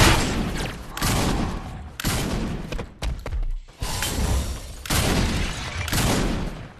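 Bursts of rapid gunfire from Saints Row 4 come in loud repeated volleys separated by short gaps, close and punchy with thuds between.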